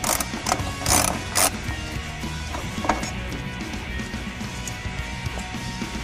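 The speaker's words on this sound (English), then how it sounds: "we can take off these two radiator brackets using the ratchet and a 10mm socket" Ratchet with a 10mm socket loosening radiator brackets on a Honda S2000 in a garage, bursts of clicking ratchet action followed by lower mechanical rattling and knocks, close by.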